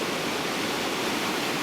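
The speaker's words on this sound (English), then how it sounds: "I'm just standing by the weir." River water pouring over a weir near a fishing lodge on a beck, a steady, dense broadband roar close by with no let-up and no voices.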